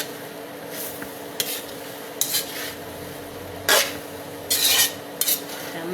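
Onion sautés in a frying pan for pancit miki bihon, a faint steady sizzle with several sharp scraping bursts as a utensil stirs the pan, close and without talk.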